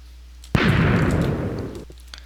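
A piston-loaded TNT cannon in Minecraft 1.7 fires with a single sharp, booming explosion that rumbles and fades over about a second and a half, heard alone and fairly close.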